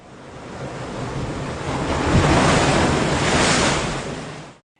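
Ocean waves used as an ambient sound effect in an edit, a broad rushing surf that swells, peaks mid-way and cuts off abruptly, with no voices.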